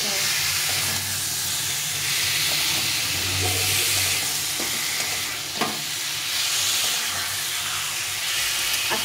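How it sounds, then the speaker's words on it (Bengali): Amra (hog plum) pickle with sugar being stirred in a frying pan, a steady sizzle and steamy hiss with soft scraping stir sounds throughout, close and continuous. "দিয়ে চিনি দিয়ে ভালো করে নেড়ে নেড়ে ভালো কষিয়ে নিতে হবে।"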